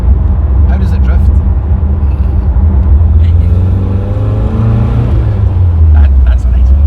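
A loud, rumbling engine of a 50-year-old Triumph car revs steadily and close by, with voices talking over it throughout.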